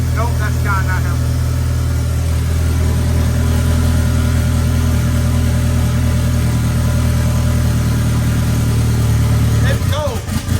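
A fully built Mitsubishi Eclipse engine runs loud and steady at idle throughout, a continuous low drone with faint revving, while people talk nearby.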